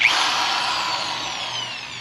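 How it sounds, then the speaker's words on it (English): A power drill bores a 5/8 inch hole for a Jeep Wrangler TJ front track bar install, one steady high whining run from start to finish, loud and close with no talk. "and then we'll drill that 5/8 hole."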